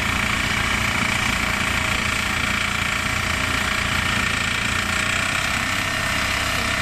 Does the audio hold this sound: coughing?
no